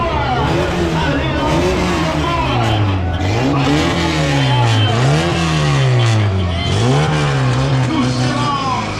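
Cars from a stunt show drive past one after another, engines revving up and down in repeated sweeping surges with faint tire noise, loud and close, and a voice can be heard at times beneath the engines.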